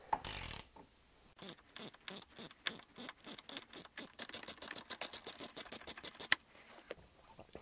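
Bolt beside the sun visor of a Jeep JK being ratcheted out: a rapid run of close, crisp clicking strokes, speeding up steadily, after a brief burst of handling noise, with no talk.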